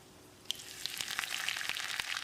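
Mustard seeds, fenugreek and urad dal fry in hot sesame oil for a Tamil bitter gourd tamarind curry, a close, bright sizzle with crackling pops as the seeds splutter.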